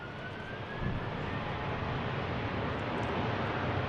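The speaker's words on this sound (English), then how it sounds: "EasyJet touches down." EasyJet airliner touching down at Manchester Airport, a steady broadband jet roar at moderate distance that swells slightly after the first second and holds level throughout, with no voices.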